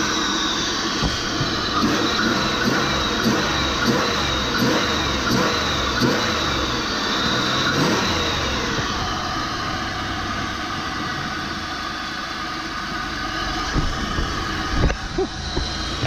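A supercharged 3.8-liter Pontiac GTP engine runs at a steady, moderately loud drone with a rough, pulsing intake rasp and faint rhythmic ticking, heard close up and alone, without voices.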